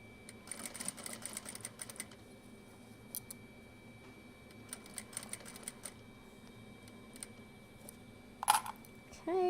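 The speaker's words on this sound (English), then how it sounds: "do a few stitches, back stitching, and then keep going" A sewing machine runs in short rapid bursts of stitching, stops briefly, reverses to back stitch, then carries on. The sound is near and fairly quiet, with a soft voice at the end.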